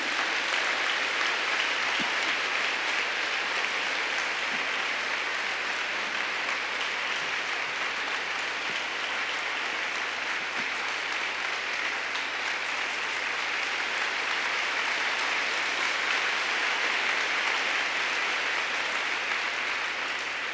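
Sustained applause from a church congregation during Sunday Mass at a parish on the Riviera, steady dense clapping filling the whole stretch without pause.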